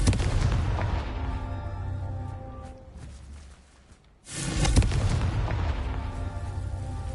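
A Confringo spell blast in Hogwarts Legacy: a dense booming burst that tails off into near quiet, then a second loud explosive crash, all without speech.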